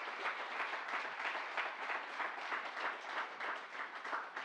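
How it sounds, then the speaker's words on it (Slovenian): Sustained audience applause at a Slovenian round-table event on cybersecurity, a dense steady wash of many hands clapping throughout, moderately loud with no talk over it. "en topel aplavz za vse"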